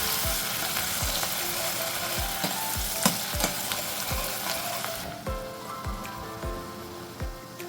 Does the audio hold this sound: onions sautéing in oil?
yes